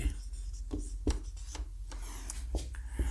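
Pen or chalk writing out a maths solution, a series of short scratchy strokes and taps, close and fairly faint, with soft talk between strokes.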